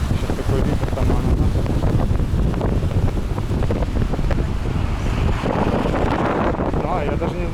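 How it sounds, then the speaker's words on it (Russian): Strong wind during a March storm on the coast at Alanya, Turkey, buffeting the microphone in loud, continuous roaring gusts throughout, with a voice speaking faintly underneath. "Сейчас такой ветер"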